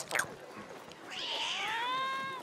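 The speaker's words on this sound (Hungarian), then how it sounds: "fekete macska." A black cat in the Assassin's Creed Mirage video game meows once in a long, clear, rising-and-falling cry, preceded by a brief faint sound.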